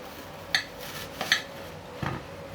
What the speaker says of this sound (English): now so just slice the onion as you want to